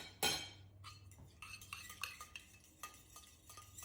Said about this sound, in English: I'm just gonna add in a little bit of the broth from here, mix it together